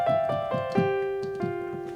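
A piano plays a riff, a handful of clear, struck notes stepping downward in a sparse rhythm, each ringing out briefly before the next, with no talk.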